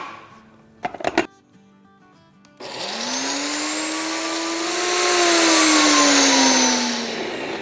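An electric spice grinder grinds nutmeg, half a mace blade and half a teaspoon of kabab chini: a steady, loud whirring motor hum whose pitch rises and falls slightly, heard alone after a few brief clicks.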